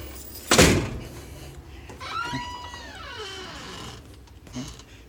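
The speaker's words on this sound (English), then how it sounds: "you can just shut it to lock it." A DIY smart door shuts with a single sharp, loud slam, followed by faint mechanical whirring and a soft click as the lock engages, no talk.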